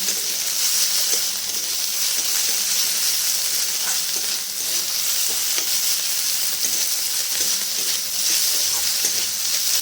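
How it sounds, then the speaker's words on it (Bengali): Potatoes and bitter gourd fry in hot oil with a steady, close sizzle, and a spatula scrapes through the pan in irregular stirring strokes that run from start to end. "মিশিয়ে নিয়ে একটুক্ষণ ভালো করে ভেজে নিতে হবে।"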